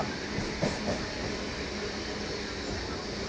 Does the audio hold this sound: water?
no